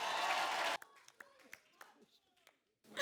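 An audience gives a studio comedy show guest a burst of loud applause, which then cuts off sharply, leaving only a few faint scattered claps and some talking.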